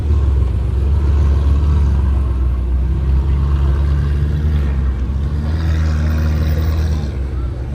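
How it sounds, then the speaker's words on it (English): A McLaren 720S supercar passes on the Oulton Park circuit during a supercar pageant, a steady loud low engine rumble that swells slightly and fades, with people talking over it. "McLaren 720S there."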